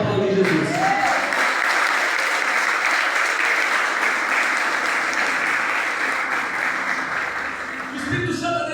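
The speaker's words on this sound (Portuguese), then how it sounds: "Agora você pode aplaudir Jesus." A church congregation applauds steadily and loudly for several seconds, a dense wash of clapping with a few voices at the start and end.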